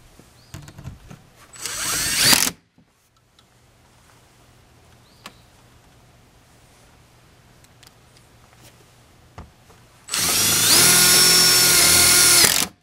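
A power drill drives screws into a mobile home window during installation: one loud whirring burst early, a quiet stretch with faint small noises, then a longer loud burst near the end.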